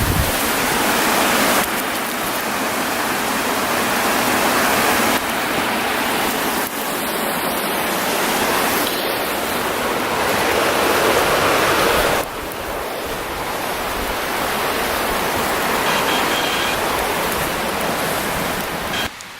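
Water rushing down the Grayville Falls cascade, a loud, continuous broadband roar that stays steady, with a few abrupt shifts in level, and no voices.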